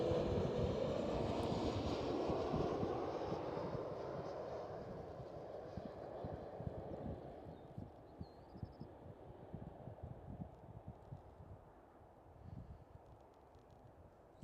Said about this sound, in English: With the next one is a KLM Cityhopper E190.